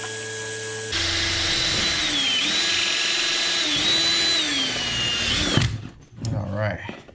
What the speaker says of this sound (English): I am gonna drill through the circle right here